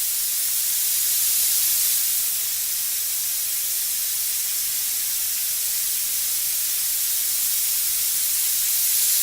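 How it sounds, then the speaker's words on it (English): An airbrush sprays wide open to flush its tip: a continuous, even, bright hiss of air and paint holding steady for several seconds, with no talking. "what I like to do is flush it by spraying it wide open off of what I'm working on."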